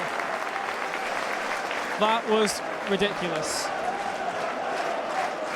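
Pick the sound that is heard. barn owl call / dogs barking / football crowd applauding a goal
football crowd applauding a goal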